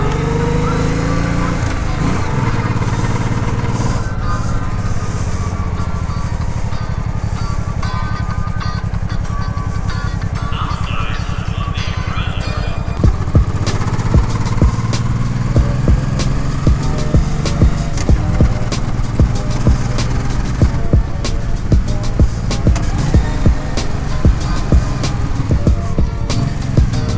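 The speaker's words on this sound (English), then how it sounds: "Let me start the bike and I'm gonna take it for a quick test drive." Honda Shadow VT800 motorcycle engine running steadily and loudly throughout, a low rumbling drone with a busier, rougher texture in the second half, no talking.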